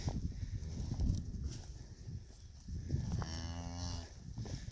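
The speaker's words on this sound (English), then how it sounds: "this nice young cow had a new calf early this morning" A young cow that has just calved moos repeatedly outdoors, long low lowing calls rising and falling, fairly close, with a deep drawn-out call near the end and no talk over it.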